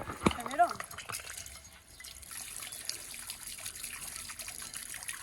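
Water from a garden tap hose runs into a bird bath as a soft, steady trickle and splash in the background, under a person talking.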